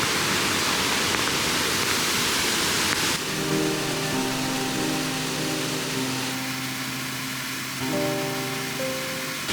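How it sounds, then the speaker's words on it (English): A tiered waterfall pours into a pool at the Kobe herb gardens in the rain, making a steady, loud, broadband rush throughout. A low tonal hum joins partway through. "And then a pool and another waterfall down here."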